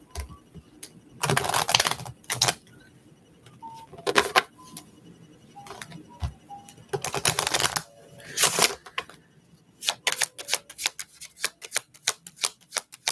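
A deck of tarot cards being shuffled by hand, with bursts of riffling and flicking cards in irregular clusters, close and fairly loud, broken by short pauses.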